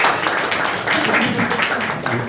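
Applause from a group gathered for a cycling weekend with Tadej Valjavec, a steady wash of clapping that runs dense and even for a couple of seconds with a faint voice mixed in.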